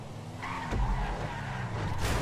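A car crashing and skidding during a race in the video game GTA V: a droning engine, then a heavy low thud of impact, a rumbling slide and a rising tire hiss near the end.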